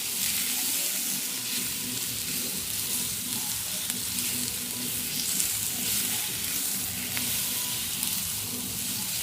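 Garlic sizzles steadily in hot oil in a pan, a close, continuous crackling hiss for Ethiopian ful, with no talking.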